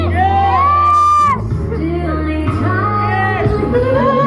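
A crowd yells and whoops together in loud, sustained bursts, voices rising and falling in a rowdy chorus.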